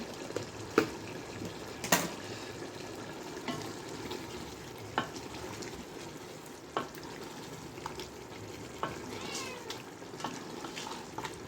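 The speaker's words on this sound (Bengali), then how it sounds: "মশলাটাকে দিয়ে নাড়াচাড়া করে আবারও কিছুক্ষণের জন্য এটাকে ঢেকে রাখবো" Spice masala for chicken tehari is stirred in a pan under a low, steady sizzle, with scattered scrapes and clinks of the spoon against the pan over several seconds, no talking, and what may be a cat meowing faintly.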